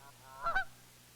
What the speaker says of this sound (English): A goose is more complex still.